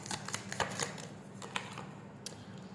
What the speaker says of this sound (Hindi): ये जो न्यू आ रहे हैं ना, मैं उनके निकाल रही हूँ कार्ड्स